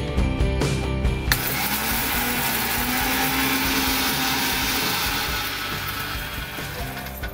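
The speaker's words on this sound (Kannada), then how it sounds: "ಹುರಿದಿರುವ ಮೆಂತ್ಯ ಜೀರಿಗೆಯನ್ನು ಒಂದು ಮಿಕ್ಸಿ ಜಾರ್ನಲ್ಲಿ ಹಾಕಿ ನುಣ್ಣಗಾಗುವವರೆಗೆ" A mixer grinder whirs loudly, grinding roasted fenugreek and cumin seeds to a fine powder in a mixie jar; the motor drones steadily throughout after a rattly start, with no talk.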